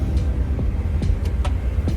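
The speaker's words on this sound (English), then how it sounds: "40 million school buses coming by right now." School buses driving past on a road, a heavy rumbling engine drone with passing whooshes and a few brief squeaks and clicks, fairly loud and close, with no talking.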